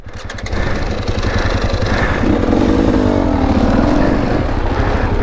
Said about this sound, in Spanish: Esta moto es más fácil.